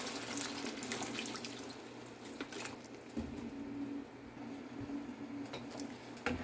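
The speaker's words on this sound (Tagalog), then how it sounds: "Lagyan natin ng tubig." Water poured into a cooking pan holding tomatoes and pan-fried chicken, a steady soft rushing splash that runs unbroken for several seconds, fairly quiet and with no voices.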